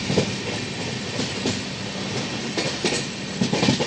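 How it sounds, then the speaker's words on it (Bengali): The Mithila Express pulls into Durgapur station with a steady rumble and rhythmic clickety-clack of wheels over rail joints, heard up close from inside the train. "দেখতে দেখতে ট্রেন ঢুকছে"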